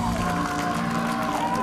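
Wrestling crowd at a German pro wrestling show cheering for the wrestler Bad Bones, a sustained roar of voices filling the hall under a commentator's speech.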